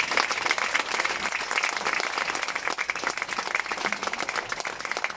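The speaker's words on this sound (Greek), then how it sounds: "Ένα ζεστό χειροκρότημα για αυτούς." A crowd at an election campaign office opening applauds candidates with warm, sustained clapping, dense and even for several seconds, with a faint voice mixed in.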